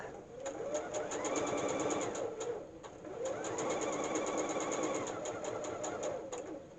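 A sewing machine stitches vinyl in two quick bursts of rapid mechanical chatter, pausing briefly between runs, fairly quiet and close with no talking.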